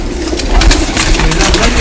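Breeding pigeons in a crowded cage in Rawalpindi coo close by, soft throaty calls mixed with brief rustling bursts over a low background hum.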